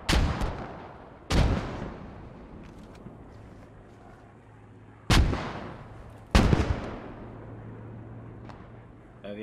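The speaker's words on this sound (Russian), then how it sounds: "Да, на том берегу реки у них пушка." Heavy cannon fire from across a river in the WWII shooter Post Scriptum: four loud, booming blasts at uneven intervals, each with a long rolling tail, over a steady low rumble of wind and distant battle noise.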